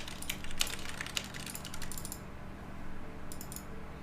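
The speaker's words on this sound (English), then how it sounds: "Who's typing?" Quick, light clicking of keys on a computer keyboard, in rapid bursts for a couple of seconds, then a pause and a short final flurry, faint against a steady low hum.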